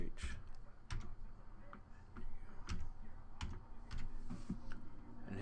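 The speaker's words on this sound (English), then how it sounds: "I'm going to type in the CAPTCHA" Keys on a computer keyboard are tapped in short, sparse clusters while a CAPTCHA is typed, close and crisp against a low room hum.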